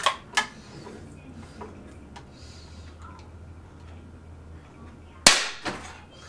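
A single sharp crack from an Air Arms FTP 900 .177 PCP air rifle shot breaks out suddenly after quiet background noise and a couple of small ticks, followed by a brief clatter as the target shatters.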